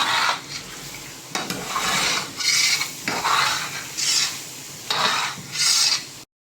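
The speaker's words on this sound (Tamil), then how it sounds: "சேர்த்து ஒரு வாட்டி இதையும் நல்லா மிக்ஸ் பண்ணி விட்டுடலாம்." Green chillies are stirred into veg biryani masala in a pot, with bursts of scraping and sizzling from a spoon in uneven strokes, close and loud, ending abruptly.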